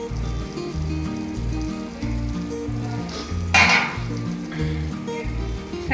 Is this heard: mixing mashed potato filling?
yes